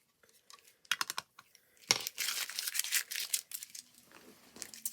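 A sticker stencil is peeled off a journal panel, heard as a few soft ticks followed by a longer crackling, tearing peel, close and quiet.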